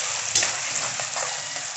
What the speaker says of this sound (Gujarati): હિંગ મૂકીને પહેલાં ડુંગળી વઘારશું।